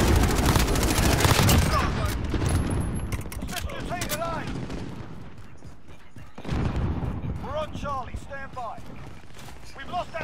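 Rapid automatic gunfire erupts in Call of Duty: Modern Warfare, dense bursts of shots up front, then scattered cracks and mechanical clatter over a rumbling battlefield, with voices talking over the action.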